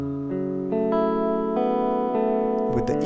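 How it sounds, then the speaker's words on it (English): Solo electric guitar, panned right and left dry without EQ, rings out sustained chords that shift every half second or so, steady and fairly loud, ending in a brief burst of scratchy strummed noise. "this is how this guitar sounds, which is on the right without any EQs"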